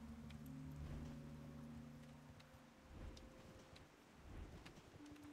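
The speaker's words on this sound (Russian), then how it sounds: "Ой, дождик еще идет." Rain falls steadily in an online role-playing game, a soft continuous hiss with low rumbling tones underneath, quiet and distant, with no voices.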